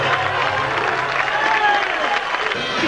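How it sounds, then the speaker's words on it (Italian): A crowd at a presentation event applauding and cheering, a dense, steady roar of clapping that continues for about three seconds, with voices mixed into the noise. "Andate a prendere l'applauso"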